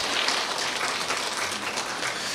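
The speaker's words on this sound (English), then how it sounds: "So let's give them a round of applause." A church congregation claps together in a steady, dense wash of applause that holds even and moderately loud throughout, with no one speaking over it.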